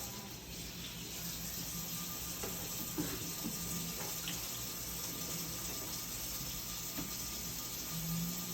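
Running water pours steadily from a tap into a sink while hands are washed, a continuous close hiss and splash with faint clinks and no talk.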